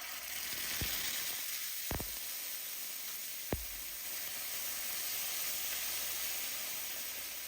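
Sofrito hitting a hot pan for a chicken stew, giving a steady broadband sizzle throughout with a few sharp clicks and knocks of utensils against the pan, no voices.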